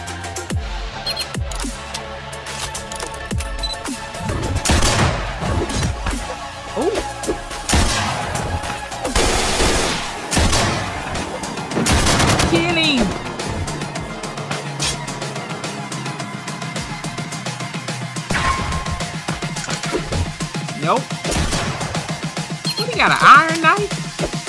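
Loud gunfire comes in bursts and single cracks over about twenty-five seconds, mixed with voices talking and reacting in between.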